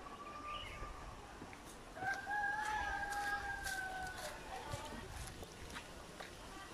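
White leghorn chickens at a farm garden, with one long rooster crow rising out of faint clucking and outdoor background noise. The crow is moderately distant and lasts around two seconds.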